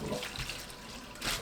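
Cold tap water running over soaked dried gondre greens being rinsed in a bowl, a brief continuous splashing rush with small surges, close and alone.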